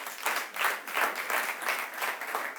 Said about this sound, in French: Applaudissez pour Steph, s'il vous plaît.